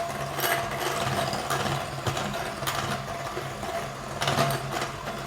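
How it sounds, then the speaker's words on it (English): A handheld electric mixer beats brown-sugar carrot cake batter in a bowl, a continuous whirring drone with rattling beater clatter, growing briefly louder near the end, close and without speech. "we're just going to beat this to get it combined with a hand mixer"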